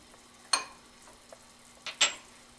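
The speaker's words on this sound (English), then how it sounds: "and just stir it." Spoon stirring hot sugar syrup with saffron in a pan for cashew fudge, a few brief scraping clinks and soft bubbling, fairly faint with gaps of quiet.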